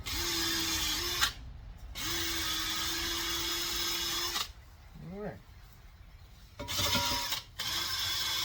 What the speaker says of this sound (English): right now I'm just using a wire wheel on the bolt pattern of the hub